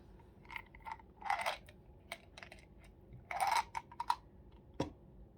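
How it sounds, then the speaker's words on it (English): Gum chewing up close in a quiet room, with soft, irregular wet smacks and crunchy clicks spaced a second or so apart, a few louder bursts among them. "Also chew some gum."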